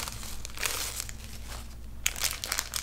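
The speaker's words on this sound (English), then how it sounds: "So this is a My Little Pony blind bag. I want to open it so bad. I'm doing it. I'm opening it." Crinkly plastic packaging of a My Little Pony blind bag being handled and torn open, with close, continuous rustling and louder crackling bursts toward the end.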